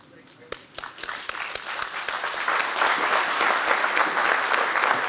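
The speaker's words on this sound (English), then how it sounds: "I hope you could hear the applause." Audience applause at a medical conference after a talk on ablation procedures: a few scattered claps that quickly swell into dense, sustained clapping from a roomful of people, growing louder toward the end.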